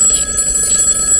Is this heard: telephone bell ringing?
yes